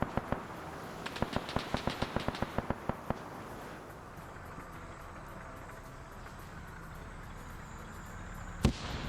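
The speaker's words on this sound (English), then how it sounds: "Grenades going wide, not able to find any crevices to get anyone" Rapid bursts of gunfire crackle from a WW2 shooter game, a quick string of sharp pops in the first few seconds, then a quiet stretch and one louder blast near the end, with no talk over it.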